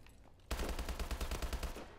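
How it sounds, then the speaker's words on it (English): Rapid automatic gunfire in the Call of Duty video game, a quiet moment broken by a sudden sustained burst of closely spaced shots that carries on to the end. "All I know is that I heard shooting, and I thought they were coming after me."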